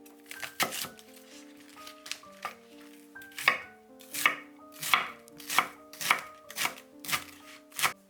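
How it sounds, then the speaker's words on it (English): A knife chops cabbage into pieces on a cutting board, about a dozen sharp, crisp cuts at an irregular pace, close and clear over soft background music. "Cut into pieces 150 grams of cabbage"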